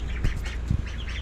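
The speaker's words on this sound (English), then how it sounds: "Say hello to the chickens and the ducks this morning." Farm ducks and chickens in the morning, with several nasal quacks close by over steady low background noise, short bursts repeating through the clip.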